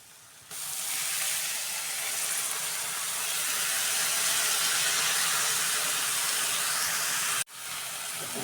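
Washed dill greens dropped into hot oil already frying with garlic and green chilli give a loud, steady sizzle that starts abruptly, holds close and bright for several seconds, then cuts sharply and resumes.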